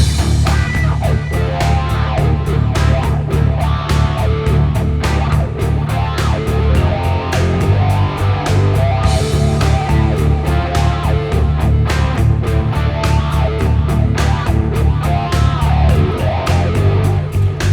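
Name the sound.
drop D rock guitar riff with wah-wah pedal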